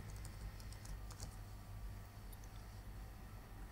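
Soft, rapid keystrokes on a computer keyboard rattle steadily for a few seconds, quiet and close with no voices.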